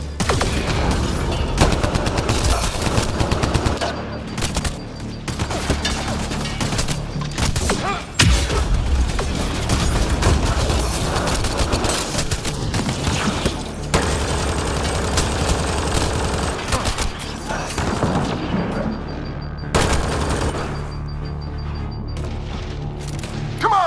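Sustained gunfire from a Mass Effect Andromeda combat sequence on the Nexus, dense bursts of rapid automatic shots and booming impacts running almost continuously, loud and close, with occasional shouted voices over the battle.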